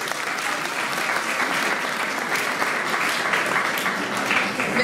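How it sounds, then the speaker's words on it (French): An audience at a conservatory ceremony claps steadily, with dense, even applause filling the room throughout and no break. "ça se salue, ça s'applaudit parce que c'est un grand jour"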